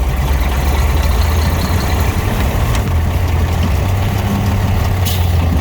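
An antique Brockway 158ll truck drives with a loud, steady low engine rumble and drivetrain drone throughout, close and continuous, with a couple of brief higher clanks near the end.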